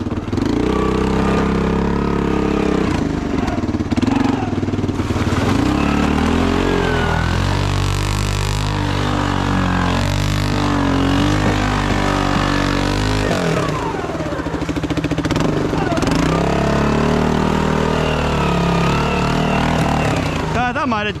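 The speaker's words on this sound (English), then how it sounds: "First gear, second gear." A Honda Fourtrax 300 6x6 ATV runs loud and close as it drives through its gears over rough ground. The engine drones steadily and rises and falls with each shift. Someone talks over it at times.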